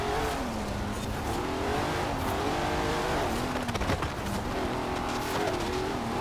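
Race cars in Forza Horizon 4 roar continuously with revving engines, shifting pitch as cars pass, and brief tire squeals, loud and steady throughout with no speech.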